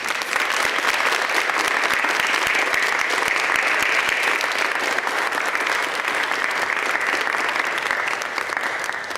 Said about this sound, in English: Students, can you give your teachers a huge round of applause?